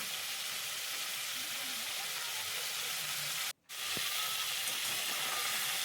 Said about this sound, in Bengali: আর বাকি কাঁকড়াগুলোকে ভেজে নেব